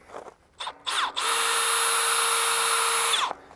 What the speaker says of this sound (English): So I'm just gonna go ahead and set and start drilling.